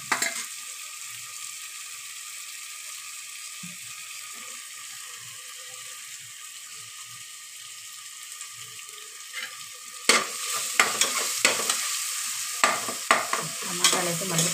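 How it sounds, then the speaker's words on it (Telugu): Tomatoes and vegetables fry in a pressure cooker for vegetable biryani, giving a steady soft sizzle with occasional stirring scrapes, then louder clattering stirs near the end, with no voices. "బాగా టమాటా ఫ్రై అయిపోయింది."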